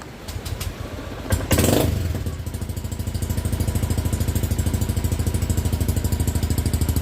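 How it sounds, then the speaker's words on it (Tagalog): A Honda Beat Fi 110cc scooter runs after an engine overhaul, starting with a brief rev and then settling into a steady, evenly pulsing idle heard close up without talk. "Ito na yung tunog ng makina."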